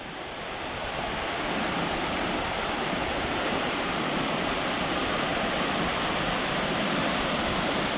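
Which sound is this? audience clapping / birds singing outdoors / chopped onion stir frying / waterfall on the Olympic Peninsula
waterfall on the Olympic Peninsula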